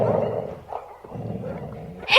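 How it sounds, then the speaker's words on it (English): A dog growls low and rumbling in a dramatised audiobook scene, two sustained growls separated by a brief pause, close and fairly loud with no talk over it. "what's Scamper growling for"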